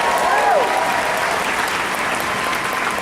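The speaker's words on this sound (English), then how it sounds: "let's give a huge round of applause for one of those men" A large convention hall crowd at the San Diego Comic-Con Twin Peaks panel gives a loud, continuous round of applause for writer Mark Frost, with a faint shout or cheer early on.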